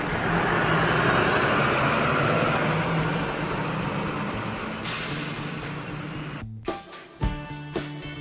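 Inside a city bus on a ride, a low engine rumble and road noise that fade gradually, followed by sharp clunks and rattles as the vehicle slows and stops.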